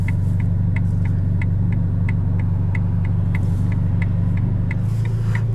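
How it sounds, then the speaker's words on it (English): A 2021 Ferrari Roma's engine and exhaust in sport mode on a public street give a steady, close low rumble, with a light regular ticking running over it throughout. "Sport opens up the exhaust."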